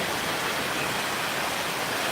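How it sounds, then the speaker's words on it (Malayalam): Heavy rain pours steadily outside a house, a dense, unbroken roar of water close by with no other sounds. "അപ്പോൾ ഇതാണ് ഞമ്മക്കുള്ള ഇന്നത്തെ മഴ"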